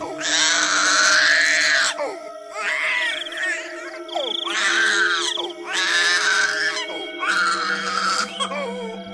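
A baby girl wails loudly in five long, strained bursts separated by short gasping pauses, close and prominent over a faint tonal background.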